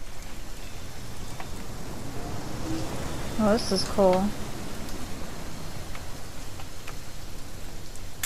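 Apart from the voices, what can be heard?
rain in the video game What Remains of Edith Finch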